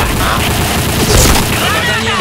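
Grenade blast in the shooter game Point Blank, a loud dense roar of explosion and gunfire noise filling the whole moment, with a voice partly audible over it.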